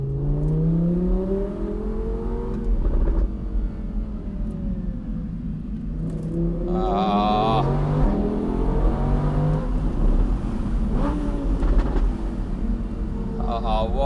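Audi R8 V10 Plus Spyder engine rising in pitch as it accelerates hard downhill in second gear on an Alpine pass, with rising revving sweeps and a driver talking over it.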